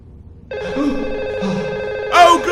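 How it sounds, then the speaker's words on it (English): A telephone rings in a video game, a steady electronic ring that starts abruptly and holds loud and close, swelling near the end as a voice briefly cuts in over it. "the game's stopping to take a phone call"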